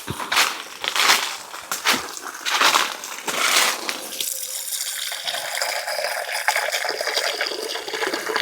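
Water runs from a tap into a pot set out for birds on a farm. Irregular splashing bursts come first, then a steadier, even stream pours in.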